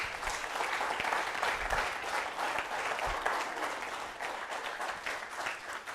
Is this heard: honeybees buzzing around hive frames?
no